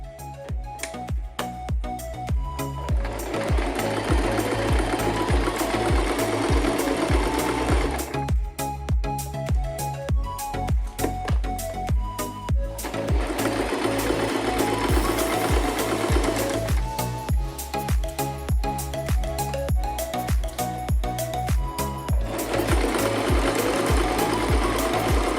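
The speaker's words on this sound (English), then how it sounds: "sew using a straight stitch all around the neckline and the bottom edge of the dress" A sewing machine runs a straight stitch along the neckline and hem of a velvet dress, whirring loudly and steadily in long runs broken by brief pauses.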